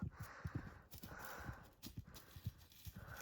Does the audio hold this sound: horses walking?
yes